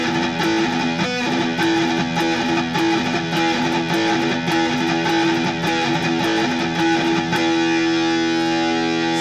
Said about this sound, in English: So you hit that power chord and then you do a gallop.